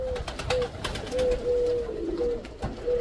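A pigeon coos nearby in repeated low, soft, drawn-out calls, several in a row, over a rustling background.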